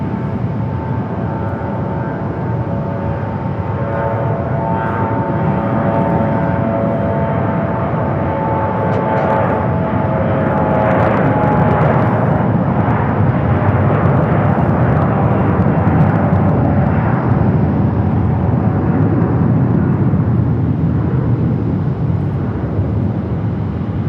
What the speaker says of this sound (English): 757-300 heading back to Minneapolis. Now starting its taxi, we'll head over here to 25 at right.